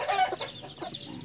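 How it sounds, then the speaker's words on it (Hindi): A hen with her small chicks nearby clucks repeatedly in short, close bursts, with a brief higher squawk among the clucks. "ये मुर्गी है और साथ में छोटे छोटे बच्चे हैं"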